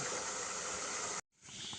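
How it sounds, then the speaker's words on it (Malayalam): Steady loud crackling and hissing of food frying in hot oil, briefly cutting out near the end before resuming more softly. "നല്ല കലകല ശബ്ദവും ഉണ്ടായിട്ടുണ്ട്"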